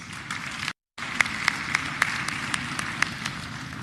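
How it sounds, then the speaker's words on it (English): Graduates and guests clap at a university graduation ceremony, a steady wash of applause interrupted by a brief dropout, with a few sharper individual claps standing out. "Give yourselves a resounding round of applause"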